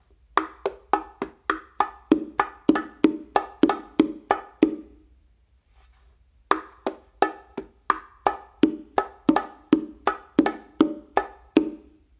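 Bongos play a martillo pattern mixing open and muffled strokes in quick, evenly spaced hits, then pause for a moment and resume for a second run of the same pattern, alone and clear.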